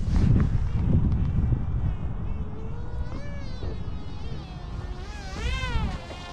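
Electric motor of an RC flying wing FPV plane buzzing in flight outdoors, a thin whine rising and falling in pitch as throttle changes, heard over heavy wind rumble.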